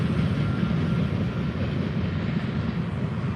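Train cars rolling past during a trackside railfanning outing, a steady close rumble and rattle that stays loud and continuous throughout with no voices.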